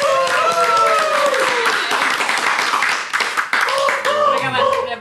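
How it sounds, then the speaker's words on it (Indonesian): A studio audience claps to welcome a guest on a comedy talk show, a busy patter of hands mixed with raised voices and cheering that briefly dips before picking up again. "Kali ini tepuk tangan lu kenceng ya?"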